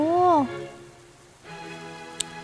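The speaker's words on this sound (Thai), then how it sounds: "ทำไมมาถึงแล้วฝนตกเลยล่ะเนี่ย" Rain falls in the Roblox game Royale High at the Moon Square shopping area, a steady soft patter heard behind a short game chime and a faint ping.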